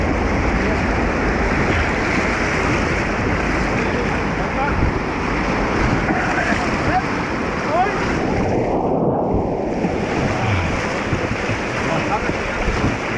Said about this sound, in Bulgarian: Има вълни за всички.